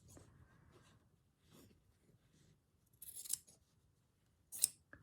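Scissors snipping into fabric during slow stitching on a scrappy hare, with two crisp, close cuts standing out against a quiet room and faint handling sounds.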